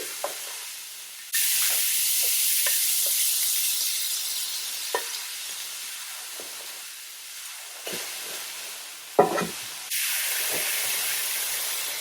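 Bacon hits a hot skillet with a sudden loud sizzle that holds steady, with occasional pops and spatters and a brief burst of louder crackling near the end.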